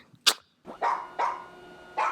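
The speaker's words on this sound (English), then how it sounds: "I'm sick of your barking!" A dog barks in a film scene, several sharp barks spaced at uneven intervals, fairly close and loud, with no talking over them.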